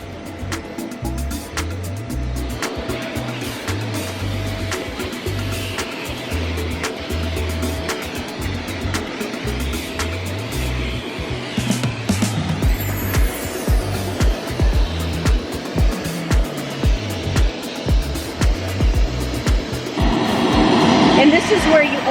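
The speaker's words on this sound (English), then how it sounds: "Go ahead and get it sucked up and into the vacuum." A vacuum cleaner fitted with a horsehair brush sucks up fur from furniture with a steady, loud motor drone and pulsing brush strokes. A person talks over it throughout.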